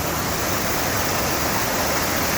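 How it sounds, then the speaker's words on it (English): Waterfall in Jamaica near the Clarendon area, a steady, loud, broadband rush of falling water that continues unbroken and close by, with no voices. "Look on this waterfall."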